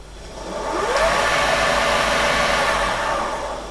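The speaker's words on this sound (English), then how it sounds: "So I'll start the motor running." A Creed 7B Mark 1 teleprinter's shunt-wound motor starting up slowly with a faulty speed controller, its whine gradually rising in pitch and settling into a steady loud hum nearby.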